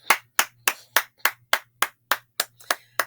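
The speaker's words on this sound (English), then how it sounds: "Why am I clapping?" Eleven sharp hand claps in a steady, even rhythm, close and distinct, each a crisp broadband snap with a short decay, alone without talk.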